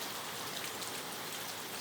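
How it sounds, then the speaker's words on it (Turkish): Heavy rain pours steadily, a dense continuous patter of drops on surfaces, fairly quiet and unbroken. "Bayağı yağmur geldi."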